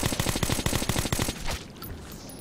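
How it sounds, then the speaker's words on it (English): A loud, rapid string of automatic gunshots in Metro 2033 Redux, evenly spaced cracks for about a second and a half before cutting off, leaving a quiet hiss. "That was a gunshot. That was not our gunshot."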